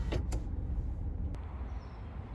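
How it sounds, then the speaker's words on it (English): An electric sun blind in a Peugeot 2008 motors open toward the rear seats, a soft steady whir inside the car with a couple of short clicks at the start and a faint tick partway through. "the sun blind will open all the way to the back of the rear seats"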